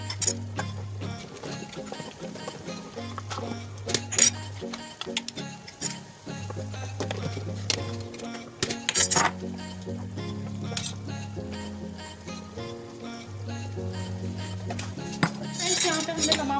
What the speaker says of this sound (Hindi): साथ साथ इसमें चम्मच चलाएंगे